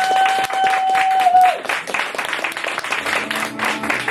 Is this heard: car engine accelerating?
no